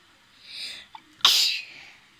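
A character in the Roblox game Brookhaven gives a single sharp cartoon sneeze, a short breathy buildup followed by a loud burst that trails off; no one talks over it.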